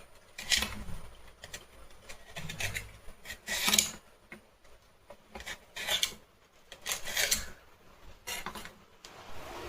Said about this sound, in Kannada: ಇದನ್ನು ಚಿಕ್ಕ ಚಿಕ್ಕದಾಗಿ ಕಟ್ ಮಾಡ್ಕೊಳ್ಳೋಣ. ತೆಳುವಾಗಿ ಕಟ್ ಮಾಡ್ಕೋಬೇಕು.